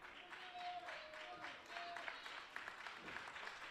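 Crowd at an FSW Future Shock wrestling show applauding a wrestler, a faint patter of scattered clapping running throughout under a commentator's voice.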